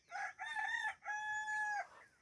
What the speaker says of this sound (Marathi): कोंबड्या ओरडतात